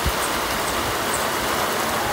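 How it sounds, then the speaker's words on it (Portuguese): Steady outdoor rain falling in a broad, even hiss with no distinct drops, close and continuous throughout. "Eita, chuvinha boa."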